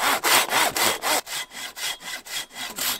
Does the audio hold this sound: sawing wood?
yes